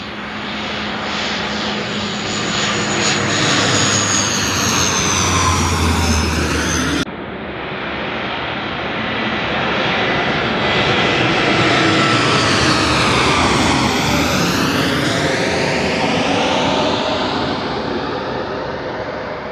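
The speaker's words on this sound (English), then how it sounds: "planes are currently doing the path right over the Blue Emu car park" Low-flying planes pass right over an airport car park, a loud, continuous roaring engine rumble that swells and shifts in pitch as they go by overhead, with no talking.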